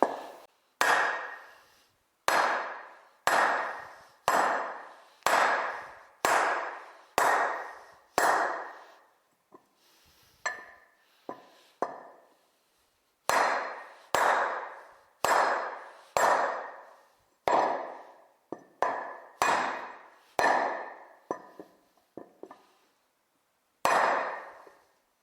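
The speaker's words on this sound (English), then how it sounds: "block of hardwood and a fairly heavy hammer, and I just do my best to go straight," Heavy hammer driving a John Deere 710 tractor axle part through a hardwood block, a long series of loud ringing metallic blows in regular bursts with short pauses between sets.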